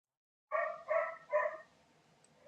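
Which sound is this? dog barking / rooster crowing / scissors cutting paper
dog barking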